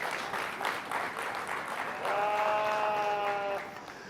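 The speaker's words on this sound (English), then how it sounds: "give them all a round of applause" Spectators at a sheep show applaud young exhibitors with a loose, moderately loud patter of clapping, while a sheep bleats clearly partway through, a sustained tonal cry standing out over the hands.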